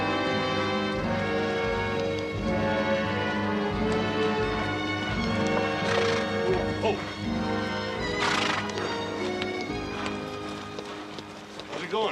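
Horses in a Western TV drama clip-clopping at a walk with repeated neighs and whinnies, loud and close over a soundtrack-like background, hoofbeats steady and rhythmic.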